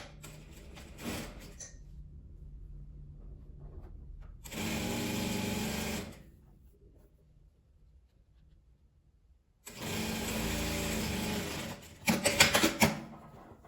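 A sewing machine stitches the seam of a fabric tie-closure tote bag in two separate runs of steady, rapid whirring, each about two seconds long. Quiet pauses with faint fabric handling fall between the runs.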